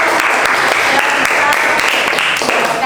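A classroom group claps together in dense, steady applause, loud and close, lasting the whole few seconds without pause.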